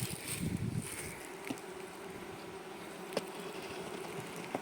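Honeybees, some carrying mites, buzz continuously nearby, a steady droning hum with a few louder passes close by.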